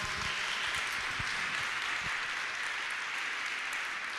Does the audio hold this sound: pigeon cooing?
no